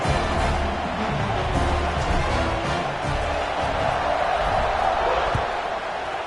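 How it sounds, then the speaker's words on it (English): Stadium crowd at a Pitt versus UF football game buzzing steadily after a touchdown, a dense, continuous roar of many voices with whoops rising over it, loud and sustained throughout the clip. "this crowd is buzzing after that last score"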